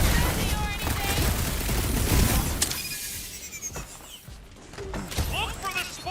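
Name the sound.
blaster shots at clamps in video game Marvel's Guardians of the Galaxy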